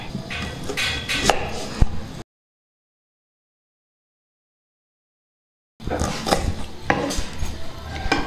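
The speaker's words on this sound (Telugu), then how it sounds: "ఉల్లిపాయ కట్ చేసుకుందాం" Knife chopping an onion on a cutting board, clustered close taps and clacks in two bursts separated by a long silent gap, with faint room sound between cuts.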